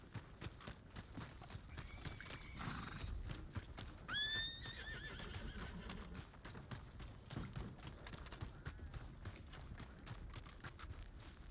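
A horse in the Red Dead roleplay video game whinnies once, close and clear, over steady clip-clopping hooves and faint background noise.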